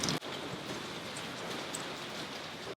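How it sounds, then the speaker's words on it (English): Pouring rain falls in a heavy, steady hiss of close, dense downpour, cut by a brief dropout near the start and another just before the end. "it's like pouring rain and we can't get to the car without getting like completely drenched"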